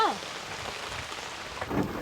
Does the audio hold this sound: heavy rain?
yes